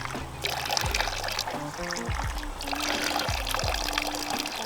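Water trickles and pours steadily from a mountain fountain that animals drink from, a continuous close splashing stream with no talk over it.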